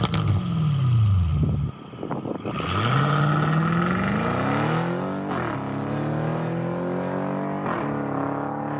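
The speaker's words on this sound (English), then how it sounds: "But the exhaust system on it is, oh my god, just listen to this." An Audi S7 with an aftermarket exhaust system revs hard several times up close, loud throaty blips rising and falling, dropping between pulls and ending in sustained roaring rises.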